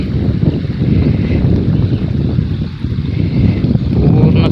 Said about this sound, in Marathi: वारा एकदम एवढा सुटला आहे ना, जबरदस्त वारा सुटलेला आहे